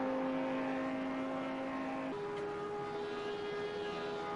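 A GT3 race car at Bathurst in Project Cars 2 holds a steady, loud engine drone with a sustained tone. The pitch shifts partway through as the car runs flat out through the kink, with no talk over it.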